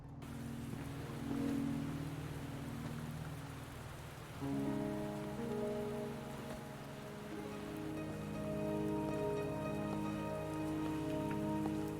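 Rain falling in the Wuthering Waves video game, a steady patter on surfaces under sustained tonal music, quiet and continuous throughout.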